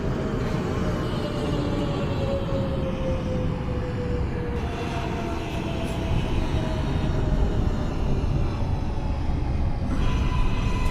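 A NYC Subway R143 J local train runs in the OpenBVE train simulator game, a steady loud rumble of motors and wheels on track with a rising whine, continuous and close throughout.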